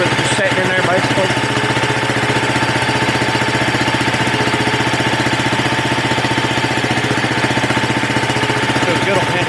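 A mini excavator's motor runs steadily and loud on a homestead, a constant rumbling drone with a rapid mechanical chatter throughout, nearby and unbroken.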